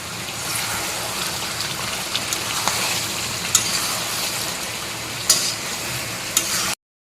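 Meat sautéing with cumin and ginger paste in a spicy curry, a loud continuous sizzle and frying hiss with occasional sharp stirring clacks, close up before cutting off abruptly.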